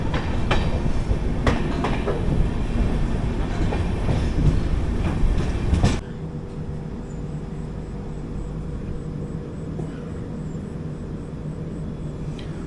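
Kondaveedu Express passenger train running on rails, a loud, steady rumble with rhythmic clatter for the first half, dropping abruptly to a quieter, smoother hum with a faint high whine.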